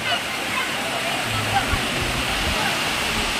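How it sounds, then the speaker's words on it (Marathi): A waterfall at Rajapur Ganga, where water falls onto a pool used for bathing, making a steady broadband rush with low gurgles and sloshing underneath. "हा मागे सुद्धा धबधबा आहे, तिथून पाणी येते."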